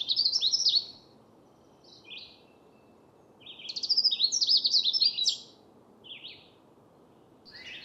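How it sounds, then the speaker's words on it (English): A Canada warbler sings from a wet, dense woodland area, giving two bright, tumbling bursts of song with a few shorter notes between, clear over a soft bed of distant ambient noise. "there's a Canada warbler that's singing down in that wet,"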